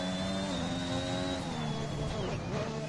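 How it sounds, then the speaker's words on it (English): Race car engine from the F1 2021 game, a sustained high whine with shifting pitch as the car drifts, steady and loud under faint talk. "you better keep the engine running to finish"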